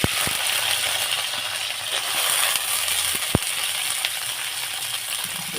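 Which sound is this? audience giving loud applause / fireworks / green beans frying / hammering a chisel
green beans frying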